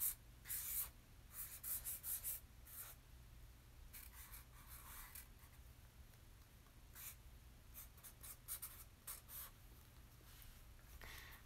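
Handwriting with a pen on paper, close and quiet, in short scratchy bursts of strokes separated by pauses, over a faint steady low hum.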